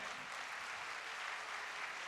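An audience applauds at an Urdu poetry gathering (mushaira), a dense, even wash of clapping from many hands, fairly faint and distant.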